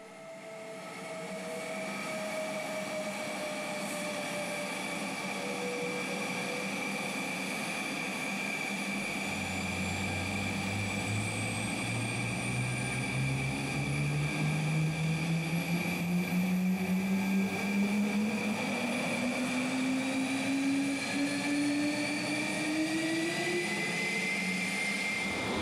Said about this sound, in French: Les moteurs M88 nous font entendre des sons impressionnants dès leur premier tour de fan.